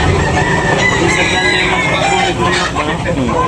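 A white hatch gamefowl rooster crows loudly and close at a poultry sale, with clucking fowl and a murmur of people around it.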